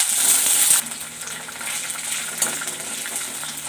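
Cumin seeds and peanuts frying in a hot pan, a steady loud hiss that drops slightly after the first second and carries on with faint crackles, no voices.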